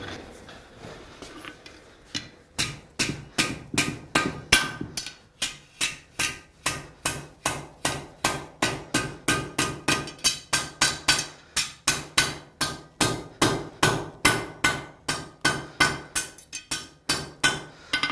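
A blacksmith hammers hot steel on an anvil, folding it back over itself for a forge weld while forging a fire poker; loud, close, sharp ringing blows fall in a steady rapid rhythm, dozens in a row, with no talking.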